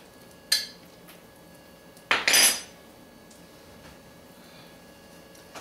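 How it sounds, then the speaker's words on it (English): A vegetable omelette being flipped in a pan, heard as a short metallic clink followed by a brighter clatter of utensil against pan, close by in a quiet kitchen. "add a little bit of this sauce inside and then flip my omelet"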